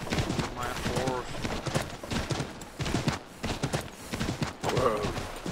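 Rhythmic clip-clop of a horse's hooves in snow in the video game Assassin's Creed III at a steady pace, fairly close, with someone talking over it throughout and a brief whinny near the end.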